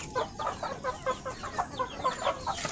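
Chickens clucking at a small backyard poultry farm, a busy overlapping chorus of repeated clucks and chatter close by, with no talking.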